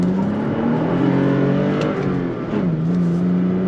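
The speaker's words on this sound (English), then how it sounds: "Making a U-turn." A 2022 Toyota Tacoma TRD Pro with a six-speed manual accelerates through a U-turn, its engine note climbing steadily, dipping briefly, then settling into a steady drone, close and loud throughout.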